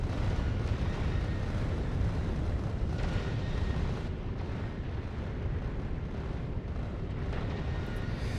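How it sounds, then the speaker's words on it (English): Continuous rumbling barrage of rocket explosions from defensive turrets on a spaceship in Factorio Space Age, a dense, loud roar of blasts and bursts filling the whole stretch with no talking. "there's a range here where everything just gets annihilated by rockets"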